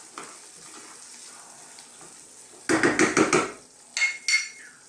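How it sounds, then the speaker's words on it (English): Vegan tofu curry cooks in a pan with a low, quiet sizzle, interrupted by a burst of loud knocking and scraping from a utensil against the pan, then two more sharp clanks. "we're going to turn that down to a simmer now"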